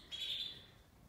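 A single faint, high chirp rises briefly from goldfinches kept in a breeding cage, a male with a white head and a satin female, alone against quiet background.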